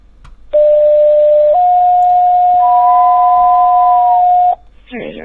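Steady electronic paging test tone over a police radio scanner, a single loud held pitch that steps up once and runs about four seconds alone before cutting off into static.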